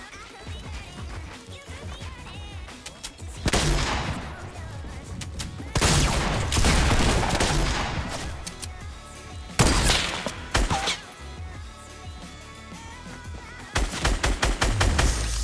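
A SCAR assault rifle fires in Fortnite in several loud, rapid bursts separated by quieter gaps, with rattling shots and impact thuds against a game soundscape.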